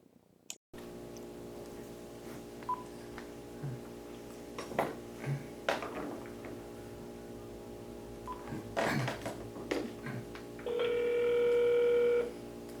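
A landline telephone call is placed: scattered handset clicks and taps over a faint steady hum, then a loud sustained phone tone at the end, with no voices.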